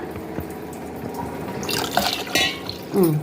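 Water is poured from glasses into a cooking pot while making sambar with chana dal, giving soft splashing and trickling with drips, rising to brief louder pours near the end.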